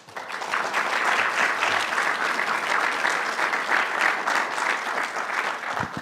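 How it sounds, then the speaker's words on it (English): A crowd claps loudly and steadily for several seconds at a school board meeting, a dense, sustained burst of applause filling the room. "let's give another round of applause"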